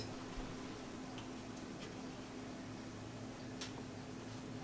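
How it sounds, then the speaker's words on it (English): Steady sizzling hiss of salmon patties frying in oil, with a few sharp pops and ticks breaking through now and then, fairly quiet and continuous. "You probably can hear the sizzling and popping."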